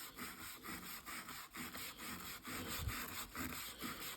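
A stiff bristle brush scrubs the white wall of a Harley motorcycle tire in steady back-and-forth strokes, a close, rhythmic rasping with regular short pauses between passes.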